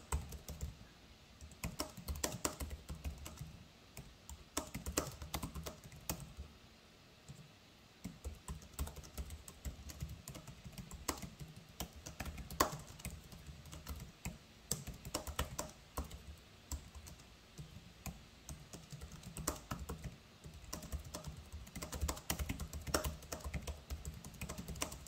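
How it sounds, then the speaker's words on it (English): Typing on a Microsoft Designer Compact keyboard: a steady stream of close, soft key clacks with irregular rhythm and occasional heavier presses, continuing alone for about 25 seconds. "Let's have some fun and do some typing demo."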